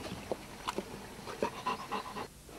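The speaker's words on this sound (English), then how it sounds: "This is my lovable dog, Prince." A dog pants in quick, uneven breaths close by, short rhythmic huffs repeating for a couple of seconds in a quiet countryside setting, with no talking over them.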